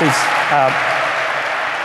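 Audience at a HubSpot INBOUND 2014 marketing keynote breaks into applause, a soft sustained wash of clapping that continues after a short burst of someone speaking at the start.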